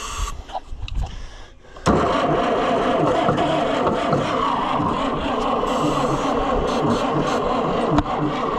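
An Oliver tractor engine, either an Oliver 550 diesel or an Oliver 77 gas, cranks and catches into a steady rough chug after a brief quieter start, close up and loud throughout, with a voice speaking over the opening moments.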